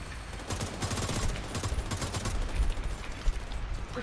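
Rapid automatic gunfire from The Division 2, dense overlapping bursts close and loud with rhythmic pulses and a few heavier thumps, and no talking.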